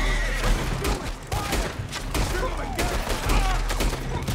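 A shootout in Red Dead Redemption 2 with dense, overlapping gunfire, rapid volleys of shots cracking throughout the whole stretch, loud and close, along with scattered game sounds.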